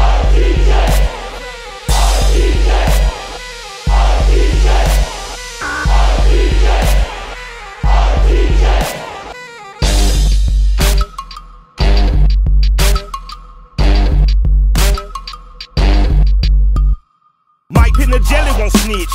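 Crowd chant or cheer sample repeated in rhythmic bursts within a hip-hop track, loud and cut sharply between hits over heavy bass.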